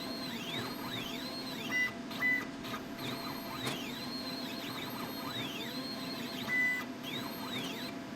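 A Langmuir Crossfire XL plasma table on a dry run, its gantry moving without cutting. Stepper motors whine steadily with rising and falling sweeps as the head travels, and brief clicks and bumps sound over a constant mechanical hum.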